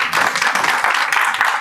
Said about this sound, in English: A big round of applause for Fatma.